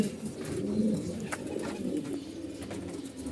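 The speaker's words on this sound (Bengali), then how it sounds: "এই যে একটা কবুতর দেখতেছেন, এটা হলো কালো গোলা কবুতর" Racing pigeons, including a black one, coo in a soft, steady series of low throaty calls, fairly close and continuous, with no talking over them.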